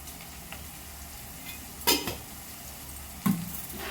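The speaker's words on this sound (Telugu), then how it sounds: "ఇప్పుడు ఇందులోకి కొంచెంగా కాజు వేసి ప్రిపేర్ చేద్దాం." Cashews sizzle in hot oil with cooked onion paste, a soft steady fry broken by a couple of sharp metal spoon scrapes against the pan, close and fairly quiet with no voices.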